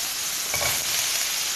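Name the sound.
sautéing mushrooms and onions in a pan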